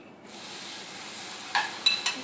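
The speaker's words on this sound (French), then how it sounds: "Donc commencez par la cuisson des encornets." Squid frying in a very hot pan gives a steady broadband sizzle, joined near the end by a few sharp metallic clinks of utensils against the pan.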